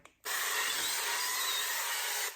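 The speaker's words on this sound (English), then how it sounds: "I am now going to spray it with some canola oil right there." A single continuous hiss of an aerosol spray of canola oil, close and steady, lasting about two seconds before cutting off.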